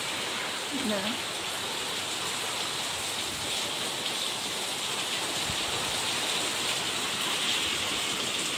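Heavy monsoon rain in Mumbai falls as a steady, dense hiss that holds evenly throughout, loud and continuous with no pauses.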